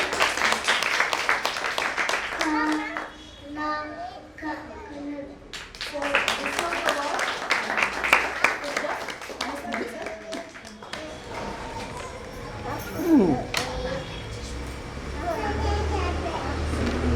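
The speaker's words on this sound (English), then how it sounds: "Can you all please clap and encourage the child?" An audience at a school event claps to encourage a young child, scattered clapping mixed with ongoing talk, taps and a voice.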